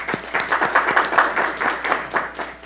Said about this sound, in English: let's welcome him with applause.